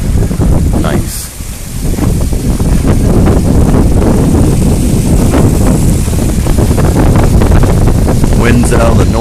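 Strong Hurricane Sandy wind roars steadily and loudly near a boat, with constant buffeting on the microphone and rushing water and gusts throughout.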